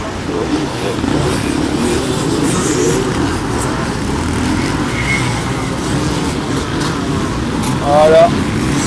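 Motocross motorcycles racing at Plassac, with Honda CR machines leading, their engines droning steadily throughout and one bike revving up briefly near the end, all under a commentator's French voice.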